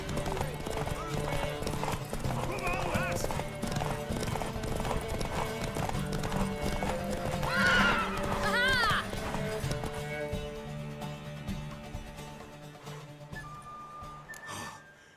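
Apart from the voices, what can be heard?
horse galloping hooves in The Witcher 3 video game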